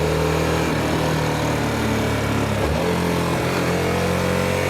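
Harley-Davidson Sportster S motorcycle riding at night on the Tokyo expressway, a steady close engine drone with a downshift to second gear and rising revs, loud wind noise throughout, no speech.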